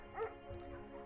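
A shepherd dog in a video game gives a single short bark, faint and quick, followed by a soft low whine against a quiet electronic hum.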